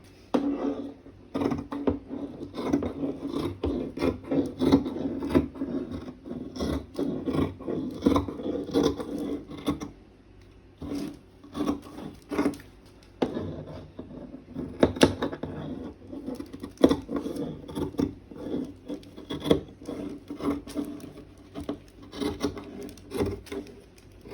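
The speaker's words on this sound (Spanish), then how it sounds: "ahora comenzamos a cortar alrededor del patrón" Scissors cut jacket fabric around a paper pattern, giving a steady stream of close crisp snips and rasping slides of blade on cloth and table that continues for the whole stretch without talking.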